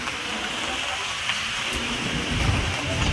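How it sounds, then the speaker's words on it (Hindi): Heavy, steady rain pours down outdoors near a vegetable seller's stall, a dense continuous hiss that swells slightly louder toward the end, with low rumbling underneath. "अभी भी देखो कितनी ज़ोर की बारिश हो रही है। बारिश रुकने का नाम ही नहीं ले रही है।"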